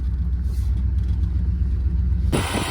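A 1976 Dodge Coronet CHP police car with a 440 V8 runs while driving, giving a steady, loud low rumble from close by, broken near the end by a sudden harsh rushing burst.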